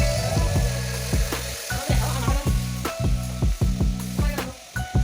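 A spice paste sizzles and spits steadily in a covered pan, with a dense crackling hiss and a run of soft rhythmic clicks throughout.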